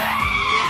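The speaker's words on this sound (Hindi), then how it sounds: "अबे गाड़ी कैसे रुक गई?" A car skids to a stop with a loud, sustained tire squeal, close and filling the whole moment without any talk.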